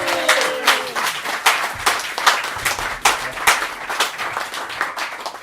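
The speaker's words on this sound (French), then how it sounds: "Je vous demande d'applaudir Félix Devergne." An audience at an inauguration evening applauding a guest as he is introduced, dense close clapping with sharp individual claps throughout, briefly overlapping the tail of a voice at the start.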